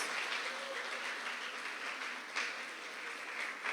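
A church congregation applauding during a service, a steady, fairly soft wash of many hands clapping with little variation, heard from a distance.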